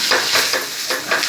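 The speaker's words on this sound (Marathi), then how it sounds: "आता तवा चांगला गरम झालाय, त्याच्यावर थोडं पाणी टाकते" Water is splashed onto a hot dosa tawa before spreading idli batter. It gives a loud, close, surging sizzle that swells and fades in quick pulses.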